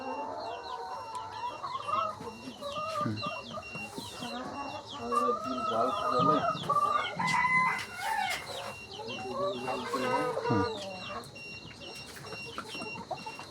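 Layer hens in a farm shed cluck and cackle continuously at close range, with a rooster-like crow partway through and faint voices in the background.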